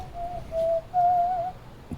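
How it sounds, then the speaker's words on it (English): A person in a woodworking shop whistling a short, clear tune in two phrases, fairly close and alone over a quiet background. "I didn't even realize I was whistling."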